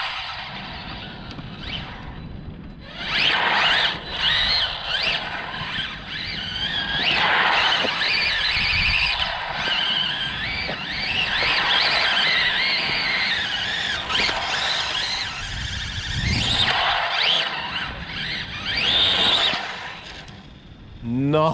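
Rlaarlo AK-917 alloy roller RC car running flat out at around 80–90 km/h, a high whining motor and tire squeal rising and falling continuously, with people talking over it.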